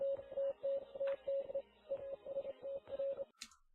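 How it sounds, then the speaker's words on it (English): Morse code tone hidden in a song's audio, a steady beeping pitch in short and long pulses with brief gaps, clear and close, ending in a sharp noise burst. "there's a secret embedding of Morse code which can be heard"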